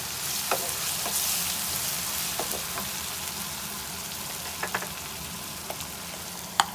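Chopped garlic and ginger frying in a pan for a bell pepper and potato dish: a soft, steady sizzle with scattered small clicks and pops, close by and fairly quiet, with no talking.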